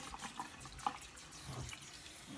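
Water from a kitchen faucet runs steadily into a sink while dishes and food residue are rinsed toward the drain, a faint continuous splashing hiss with a few small drips.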